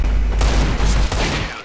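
Loud burst of gunshots in Counter-Strike: Global Offensive. A quick volley of cracks fades into a brief reverberant tail, followed by a second sharp report, with no talking.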